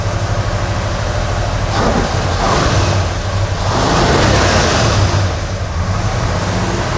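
A 1969 Plymouth Road Runner V8 engine of about 500 horsepower runs loudly and steadily, swelling in a couple of revs with a deep throaty roar that fills the whole clip.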